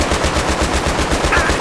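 Sustained machine gun fire in Battlefield 3, a rapid, steady stream of loud, close bursts that fills the whole stretch with no talking over it.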